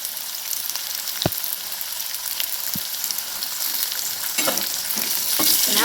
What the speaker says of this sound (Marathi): आणि आपल्याला अगदी बारीक गॅसवर हे फ्राय करायचं आहे